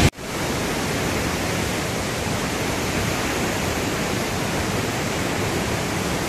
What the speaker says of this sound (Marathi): माझ्या माग हा पाहू शकता वसुधारा वॉटरफॉल आहे